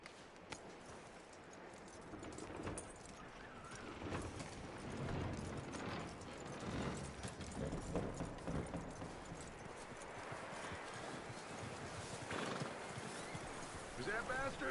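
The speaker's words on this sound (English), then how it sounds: "That looks like a decent horse." Horse hooves clip-clopping with a whinny in the Western video game Red Dead Redemption 2, steady hoofbeats with mechanical creaks under low, quiet sound.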